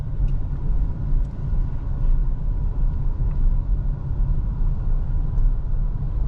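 Steady low engine rumble from inside a car moving at about 5-10 km/h, a constant drone with no voices and only faint occasional clicks.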